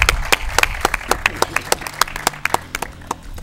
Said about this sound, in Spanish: pido un aplauso para todos los asistentes que han participado de este tercer bloque